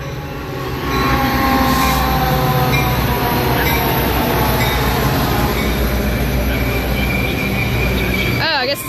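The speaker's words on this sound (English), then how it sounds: "A Metro outbound train. Oh, a doubleheader." A Metra outbound commuter train, a doubleheader led by an F40 locomotive, roars past close by with a loud sustained rumble of wheels and engines, ending in a brief squeal and a voice.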